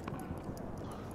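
Horse hooves clip-clop in a rapid, even rhythm in Battlefield 1, a steady close trot with no talk over it.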